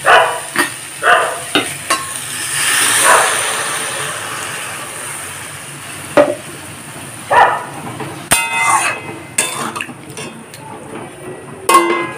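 Vegetables for a vegetarian chorchori, including potato, brinjal and long beans, stir-fried in a pan, with uneven bursts of sizzling and loud scraping strokes of a spatula alongside clattering contact with the pan.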